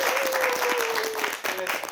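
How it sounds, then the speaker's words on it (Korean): An audience claps to welcome a professor who is about to teach at a Cheondogyo religious program for young adults. The applause is steady and dense for two seconds, with a thin tone and a faint voice above it. "큰 박수로 맞이해주세요"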